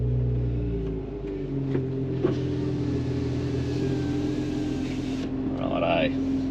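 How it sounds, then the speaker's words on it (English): An INEOS Quartermaster with a 6-cylinder petrol engine gives a deep, steady rumble from close by, the note climbing slightly as it revs before settling back to a low idle. "Listen to that 6-cylinder petrol rumble."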